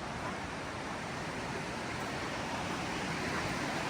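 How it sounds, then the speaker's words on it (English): River flowing beside a riverside campground in Willamette National Forest, Oregon, a constant broadband rushing roar, close and steady, with no voices or other sounds. "Can't really hear the highway noise from here very well just because of the noise from the river."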